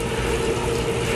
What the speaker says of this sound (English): it's the dryer.